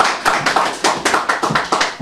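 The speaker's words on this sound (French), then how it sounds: "Lucie, merci d'applaudir pour la vie" A small audience at a film press conference claps in short bursts, individual hand claps distinct and rhythmic, fairly close and loud, lasting only about two seconds.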